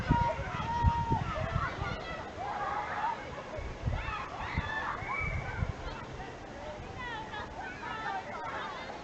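Water pours and splashes from a newly bought watering aid onto potato plants in a garden, a soft sloshing stream under steady close talk from a man.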